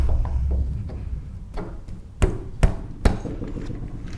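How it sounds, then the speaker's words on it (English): Dowels being tapped into a Harrison universal mill table nut: three sharp, loud hammer strikes in quick succession after some quieter handling knocks, with a low machine-shop background hum. "And there are just 2 dowels to go in."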